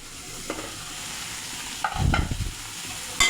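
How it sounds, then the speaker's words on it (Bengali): Chicken coated in ground spice paste sizzles in a pan while being stirred, giving a soft continuous fry with a few scraping strokes and one louder clatter near the end, no voices. "ঢাকনা দিয়ে ঢেকে ভালো করে কষিয়ে নেব।"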